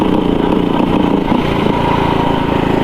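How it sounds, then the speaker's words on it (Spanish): A misfiring motorcycle engine runs loud and close with a steady droning chug, its rhythm sputtering unevenly at moments, on foggy streets in Guayaquil, Ecuador. "Hablando de la moto, nuevamente empieza a fallar."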